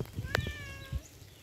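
A cat meows outdoors on a rainy walk near a woodpile, giving one clear, fairly close meow followed by a short softer call, with quiet background in between.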